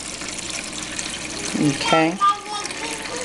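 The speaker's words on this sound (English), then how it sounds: "It is now pumping the water" A small water pump pushing water into an aquaponics grow bed, a steady trickling and splashing flow with a louder gush midway, while a person speaks briefly and a voice sounds in the background.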